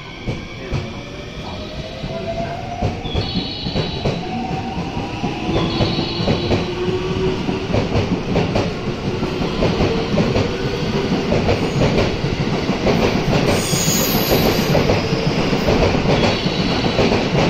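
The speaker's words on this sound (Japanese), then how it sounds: "ちょうど快速が行ったところで、下り方面の新快速列車がやってきます。" A rapid train departs Nishi-Akashi station on the Japanese conventional line, wheels clattering steadily over rail joints with squealing tones, rising in loudness and filling the platform for a long stretch.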